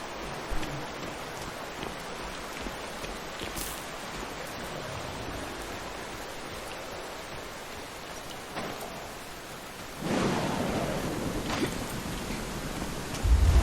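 Steady rain hiss in a stormy game world from Scars Above, continuous and moderately loud, with a sudden heavier gust or thunder swell near the end rising over the downpour; no one speaks.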